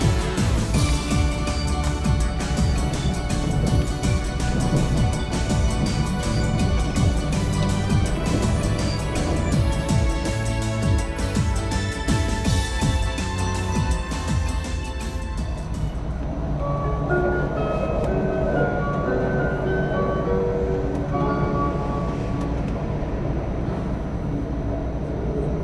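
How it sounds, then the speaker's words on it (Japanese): Joetsu Shinkansen MAX bilevel train running steadily after departing Tokyo Station, a continuous loud interior rumble with a smoother, quieter stretch in the second half and no talk. "8時4分、列車は東京駅を発車しました。"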